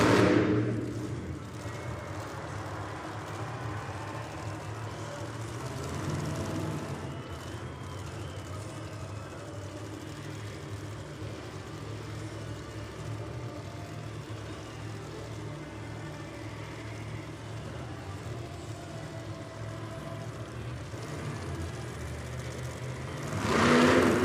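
The Mayhem monster truck's engine drones loudly and steadily at a distance through a stoppie and moonwalk in a stadium arena, with a sustained roar that swells at the start and end.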